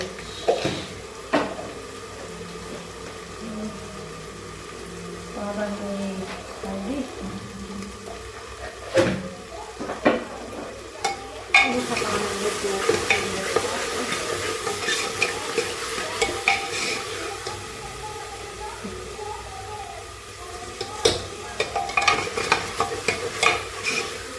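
A tadka of salt and red chilli tempers in a pan for rajma, quiet stirring and spatula knocks at first, then a louder, continuous close sizzle with scattered scrapes of the utensil, no talking.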